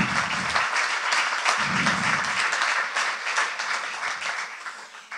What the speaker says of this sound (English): Yes, you should clap for them.